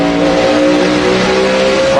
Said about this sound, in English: Kyle Busch got back to the throttle first.